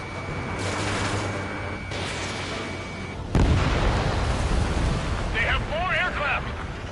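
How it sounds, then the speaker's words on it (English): Heavy explosions from bombs and missiles in the combat flight game Ace Combat 7, played on Ace difficulty, over a continuous roar of wind-like noise, with one sharp, loud blast midway and a warbling tone near the end, with voices talking. "They're bombing us."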